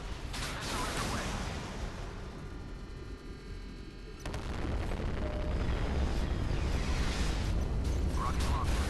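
A missile launches with a rushing roar in the naval combat game Modern Warships, followed by a louder, sustained explosive rumble that swells and holds to the end, with speech mixed in.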